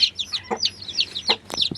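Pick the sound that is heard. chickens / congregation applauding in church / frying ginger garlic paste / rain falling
chickens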